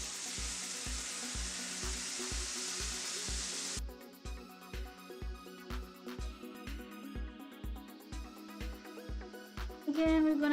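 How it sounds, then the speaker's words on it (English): Fish fried in butter in a pan, a steady loud sizzle throughout with a regular low thumping rhythm underneath, the crackle thinning and turning more uneven partway through. "I'm gonna put some butter and throw in my fish."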